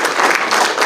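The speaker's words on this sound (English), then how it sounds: "round of applause for the job you're doing" A brief burst of applause, dense clapping from a crowd at a speaker-series event, loud and close.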